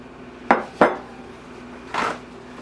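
A metal spoon knocks against pots and pans while pancake batter is being made, giving two sharp clanks close together and a softer scrape a moment later, with no voices.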